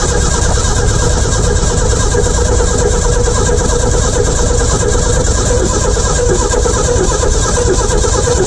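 A Ford F350 pickup engine cranks and runs steadily at close range, a continuous loud mechanical drone with no talking over it.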